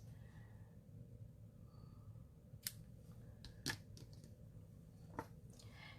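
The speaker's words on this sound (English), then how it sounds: "Okay, so I need some scissors." Sharp scissor snips cutting a small bunch of greenery and flowers for a craft project, three crisp cuts spaced out over a low steady room hum, close and fairly quiet.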